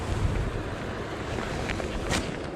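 Broad rushing water roars steadily across the rapids of the Rainy River near Emo, Ontario, close and continuous, with wind buffeting the microphone.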